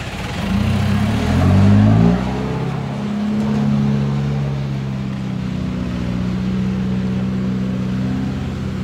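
A SANY SY215C excavator's diesel engine revs hard while drilling into hard rock, a loud, steady, close roar that swells briefly and then settles into a sustained growl.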